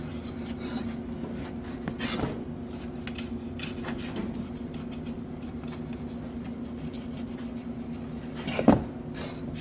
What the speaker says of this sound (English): I took a Scotch-Brite and some SOS pads and cleaned them up the rest of the way